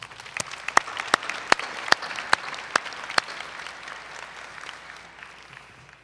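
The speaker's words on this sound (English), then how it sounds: "Let's give them a round of applause." Graduate commencement ceremony audience applauding, with sharp, loud individual claps standing out over a dense wash of clapping that gradually fades.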